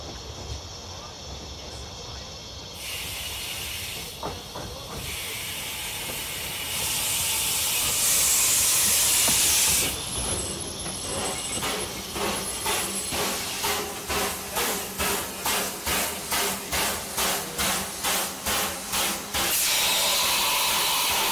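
The Welsh Highland Heritage steam locomotive Gertrude pulls away from Gellert's farm, first with loud steady steam hiss, then a quickening run of rhythmic exhaust chuffs close by, with some voices in the background.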